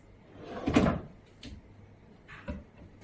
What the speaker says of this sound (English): On this drawer panel, there is also a 45-degree cut. So you can also open this drawer from the base.